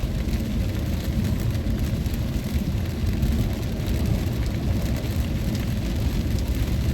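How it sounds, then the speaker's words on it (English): Steady rain pours outside, a dense, even hiss of drops striking surfaces that holds loud and unbroken from start to finish with no voices. "it's raining outside"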